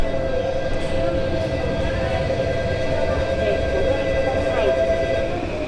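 A Yamanote line train in a Tokyo station rumbles steadily as it pulls away, a continuous mid-level rolling drone with faint squeals, heard amid busy station ambience and murmured voices.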